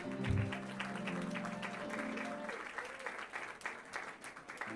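Applause and cheering from a video game crowd at a rodeo steer-roping event: a brief musical flourish opens, then a continuous wash of clapping carries on at moderate volume to the end.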